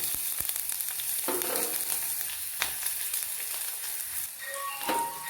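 Steady hiss of chopped shallots sizzling in hot oil, with occasional stirring clinks and scrapes of a utensil against the pan.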